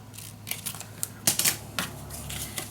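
Scissors snipping through folded paper for a scrapbook mini album, a few quiet, sharp cutting clicks spaced irregularly with soft rustling between them, close up and without talk.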